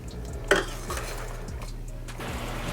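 Onions coated in butter being stirred in a pot for French onion soup, with a sharp utensil clink near the start followed by soft scraping and stirring strokes over a faint background hum.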